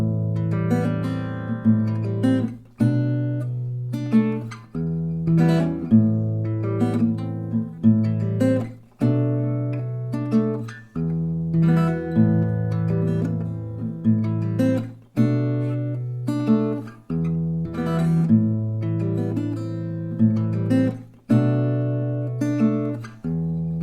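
Acoustic guitar plays a song's melody at normal tempo, close and clear, with steady plucked notes and ringing bass tones in regular repeating phrases and no speech.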